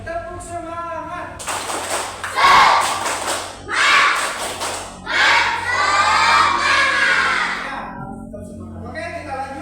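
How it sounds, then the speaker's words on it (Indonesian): Primary schoolchildren in a class perform a rhythmic spirit clap, with loud bursts of group clapping and shouting that swell and break over several seconds, close and energetic. "1, 2, 3, tepuk semangat."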